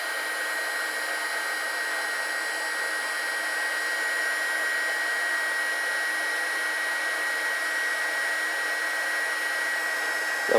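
A heat gun blows steadily for about ten seconds, shrinking a heat shrink wire connector joining two wires, a constant loud airy whir that cuts off at the end.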